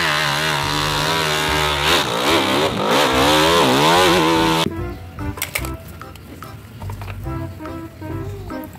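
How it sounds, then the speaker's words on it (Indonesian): A motocross motorcycle engine revs loudly and close, its pitch climbing and dropping through several throttle blips for about four seconds before cutting off abruptly into quieter, mixed clatter. "motor cross,"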